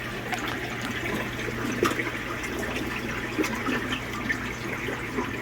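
Water runs steadily from a film developing tank during hybrid development, a continuous close splashing and gurgling flow over a low pump-like hum, with no talking.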